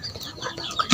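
Soft, scattered clucks from chickens close by, short and irregular, with a slightly louder burst at the very end.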